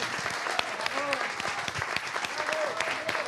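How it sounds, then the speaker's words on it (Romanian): A TV studio audience on the Romanian show Opriți Timpul applauds steadily throughout, a dense even wash of clapping with a few faint voices and brief tonal sounds mixed in. "Și vreau să o aplaudăm încă o dată împreună."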